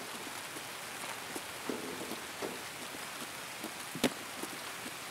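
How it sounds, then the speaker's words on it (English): Steady rain hissing down in the video game Escape from Tarkov, with occasional louder drops and taps landing close by; no voices. "And it's raining, can't see even less shit."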